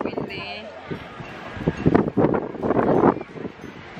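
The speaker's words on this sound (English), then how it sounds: "Tsaka it's so windy." Gusty wind buffeting a microphone in low rumbling bursts at a beach, with people talking over it.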